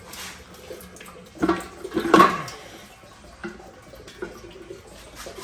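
Coolant water drains and splashes out of an aluminum LS2 engine destined for a Camaro, a quiet trickle swelling into a short gush near the middle before settling back to faint dribbling, with no talking.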